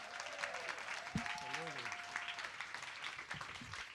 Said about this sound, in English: Round of applause for Mayor Lee.